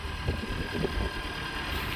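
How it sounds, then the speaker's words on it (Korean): A Hyundai Grandeur IG with the 2.4 engine idles while still cold, producing a steady, moderately loud low rumble with a slight mechanical clatter and no talking over it. "지금 이제 냉간시여서 엔진의 소음이 조금 있는데"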